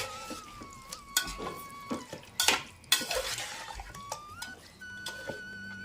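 Chicken pieces mixed by hand with masala in a pot for chicken dum biryani: irregular scraping and wet stirring with sharp clinks against the vessel, close up. A faint steady whistling tone runs underneath, and no one talks.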